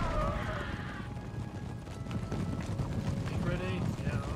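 Cavalry regiment hooves clattering in Empire Total War battle, a steady rumbling clip-clop of many horses under continuous game noise and occasional chatter.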